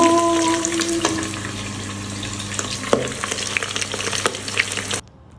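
Garlic sautéing in a hot pan after frying fish, a loud, steady sizzle with scraping stirs and clinks, close up, cutting off abruptly at the end.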